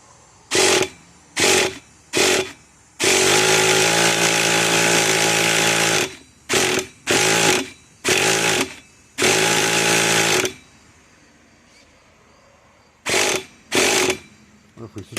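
A 2002 Kyosho Mad Force RC truck's small nitro engine, sitting unused for 20 years, is cranked in a string of loud, short bursts, then catches and buzzes steadily twice for a few seconds before cutting out, followed by more brief starting attempts.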